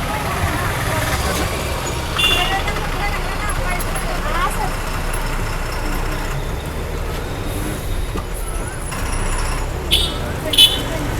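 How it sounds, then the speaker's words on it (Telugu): A Kakinada-Kadapa super luxury non-AC bus stands stopped at a pickup point, its engine idling with a constant low rumble throughout, along with faint passing traffic and voices in the background. "వాళ్ళ కోసం మన బస్సు ఆగింది."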